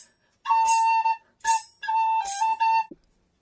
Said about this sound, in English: if I was playing a blues in A on this D whistle